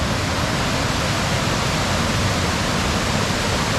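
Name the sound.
Potato River Falls waterfall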